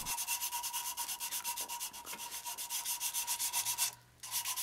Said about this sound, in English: The last step on the lathe is to sand the entire finial.